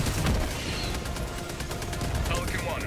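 A rocket turret in the video game Helldivers 2 fires during a chaotic battle, producing a continuous loud barrage of blasts and gunfire with little pause.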